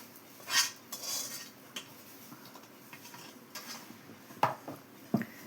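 Chicken pachadi pickle being mixed with oil and ginger paste, giving scattered clinks and scrapes of a spoon against a bowl, a few sharper knocks near the end, with no talking.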